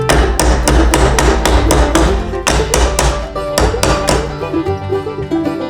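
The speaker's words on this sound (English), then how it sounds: "I'm going to use this edge on here and the dolly hammer" Rapid, evenly spaced hammer blows on a classic VW Beetle's sheet-metal drip rail over a dolly, about a dozen sharp ringing strikes in a steady rhythm, close and loud.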